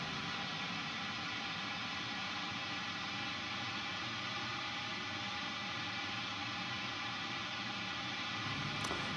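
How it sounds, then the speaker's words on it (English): A steady, broad hiss of pink noise test tone fills the whole stretch at an even level, unchanging and without any voices. "find the thinnest part of that pink noise tone"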